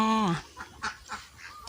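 Ducks at a Thai farm pond, some brooding on eggs: one loud drawn-out honking call opens close by, then a handful of shorter, fainter quacks follow in uneven succession.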